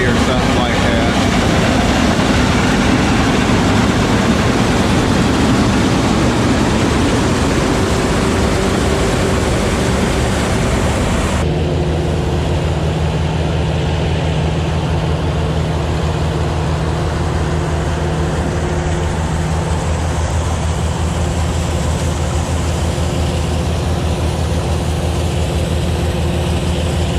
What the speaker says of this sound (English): We got a picker sheller coming here, John Deere.